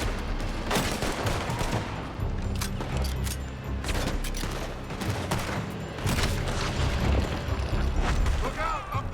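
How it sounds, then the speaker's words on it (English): Gunfire in the video game Red Dead Redemption 2: repeated shots and volleys crack out in a sustained firefight, loud and close, layered over continuous game ambience. "They're shooting from that building."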